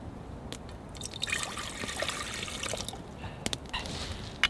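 Water boiling in a cooking pot at a winter campsite, bubbling and trickling steadily, a soft continuous liquid hiss with occasional small clinks and drips, fairly close.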